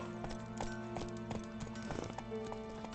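Roach, the horse in The Witcher 3, gallops with quick, rhythmic clip-clop hoofbeats heard fairly close, alongside a faint steady tonal game background.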